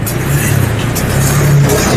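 A two-wheeler motorbike ice-cream food cart trolley with a reverse gear and hydraulic dumping system backs up, its engine giving a loud, steady close-up drone throughout.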